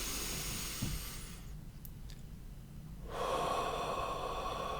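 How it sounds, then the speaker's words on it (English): Deep breaths taken during a guided breathing exercise, a close, airy inhale followed by a long hissing exhale, quiet and steady with no talking. "Take a few deep breaths."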